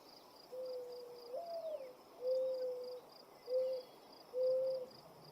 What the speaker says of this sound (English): I love mourning doves. They have a really good sound that they make.